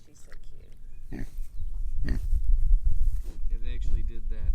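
Pigs grunt and snort close by in short, irregular bursts while people chat over them.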